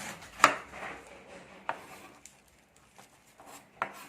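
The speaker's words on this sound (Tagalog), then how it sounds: "Hiwain naman natin ngayon ang repolyo." A knife chops cabbage for pancit bihon guisado in a home kitchen: a handful of crisp, irregular strikes, the first loudest, with quieter cuts scattered between pauses and no voices.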